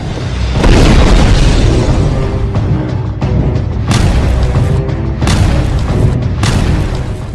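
A barrage of bombs in a Hezbollah attack on Israel sets off loud, continuous booming explosions, several heavy blasts rolling one after another and overlapping without pause.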